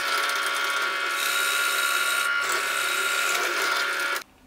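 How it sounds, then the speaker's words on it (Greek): A drill bores into beech wood to clear out material while two small wooden swords are being made, giving a loud, steady mechanical whine that runs unbroken for about four seconds and then cuts off abruptly. "Τώρα θα αφαιρέσω το περισσότερο υλικό με το τρυπάνι"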